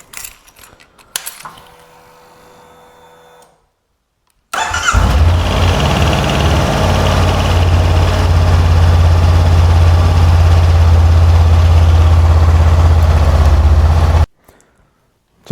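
A motorcycle on jump-start clamps cranks briefly, then catches and settles into a loud, steady idle that runs for about ten seconds before cutting off, with some quiet handling noise before the start.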